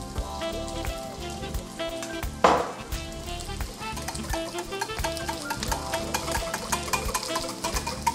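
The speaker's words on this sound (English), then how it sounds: "And whisk again." Egg and olive oil whisked together in a bowl for rustic crab cakes, a steady rapid clatter of whisk against the bowl running throughout, close and fairly loud with one sharper knock partway through, no talking.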